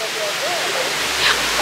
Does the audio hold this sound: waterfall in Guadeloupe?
yes